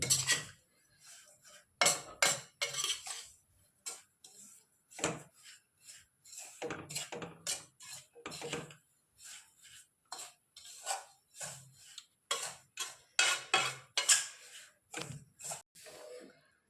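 A spoon stirs rava laddu mixture in a pan over a low flame on the stove, giving intermittent metallic scrapes and clinks in irregular bursts with quiet gaps between.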